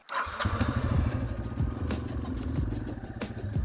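A motorcycle stuck in sand: its engine revs hard and continuously at close range, a rough, throbbing drone with a few thumps.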